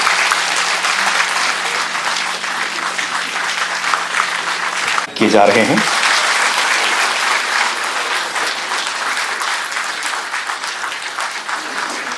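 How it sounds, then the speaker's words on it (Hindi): Loud, sustained audience applause at the inauguration of a seminar on environment and security attended by a chief minister, dense clapping throughout with a brief break in the middle and a few words spoken over it. "बहुत ही जोरदार तालियां होनी चाहिए देवी सज्जनों"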